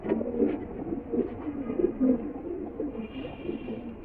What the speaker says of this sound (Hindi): ये उस्ताद बाबा सिकंदर साहब के घर के ये कबूतर है जी माशाल्लाह